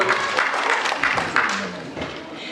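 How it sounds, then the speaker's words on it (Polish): An audience at a children's dance theatre show in Lubin claps, loud and close, in uneven bursts of applause, with someone speaking over it. "Wielkie brawa dla nich."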